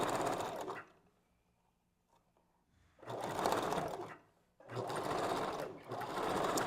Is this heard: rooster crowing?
no